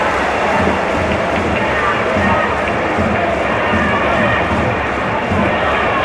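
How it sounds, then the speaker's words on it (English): A big stadium home crowd cheers at a UEFA Women's Champions League football match, Manchester United against Bayern Munich, a loud, steady roar of many voices that holds without pause throughout. "Cheer from the home fans was every bit as loud as for the goal"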